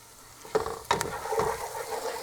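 Onions sautéing with turmeric and black pepper in a pan sizzle steadily while a spoon scrapes and clacks against the metal three or four times, close up, with no talking.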